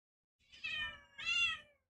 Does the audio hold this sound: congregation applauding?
no